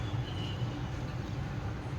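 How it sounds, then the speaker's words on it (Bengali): A long freight train of about 45 wagons rolls past outside a window, making a continuous low, even rumble throughout. "এখানে আমার জানলা দিয়ে ট্রেন যাচ্ছে, ঝপঝপ ঝপঝপ করে আওয়াজটা কি ভালো লাগে।"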